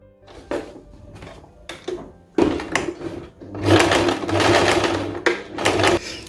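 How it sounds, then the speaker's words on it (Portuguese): A sewing machine stitches over a pocket seam on a homemade chemise, running in short bursts at first and then in longer, louder continuous runs close by. "Eu vou passar a costura agora aqui por cima."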